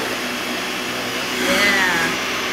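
A blender runs at high speed blending vegan feta, giving a loud, steady whir that swells slightly partway through, with no talking over it.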